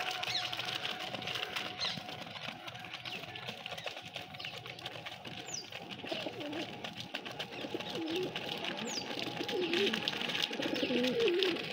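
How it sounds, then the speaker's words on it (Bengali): Jalali pigeons coo softly in low repeated calls amid a faint steady background hum, with no one talking. "আর এই যে জ্বালালি কবুতর"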